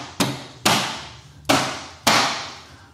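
A luggage hook part is fitted onto a Lambretta X300 scooter with four sharp, loud knocks at uneven intervals, close by, each ringing briefly, with no talking.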